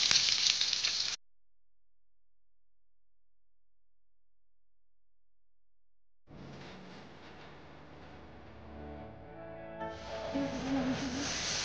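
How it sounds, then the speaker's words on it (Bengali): Papaya pieces fry in oil with salt and turmeric, a sharp burst of loud sizzling that cuts off into silence, then a softer crackling hiss returns and builds steadily. "তেল দিয়ে দিয়েছি, কেটে রাখা পেঁপেগুলো দিয়ে দিলাম।"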